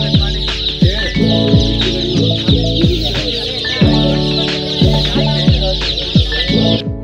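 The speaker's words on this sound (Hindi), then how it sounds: "ये चूजे कहाँ से आए इतने सारे" Dense, continuous chorus of many chicks cheeping at a poultry shed, sharp repeated peeps overlapping loudly and close, with fowl clucking mixed in.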